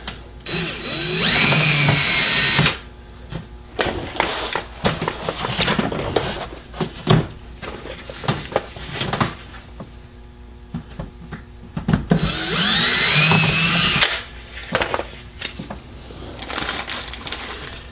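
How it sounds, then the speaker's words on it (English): A power drill whirs in two loud bursts while drilling for side rocker panels on a C6 Corvette, one at the start and one later, separated by clicking and handling noises. "So you drill this front one."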